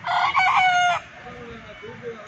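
A white hen gives one loud, drawn-out cluck up close, then falls quiet with only faint background noise.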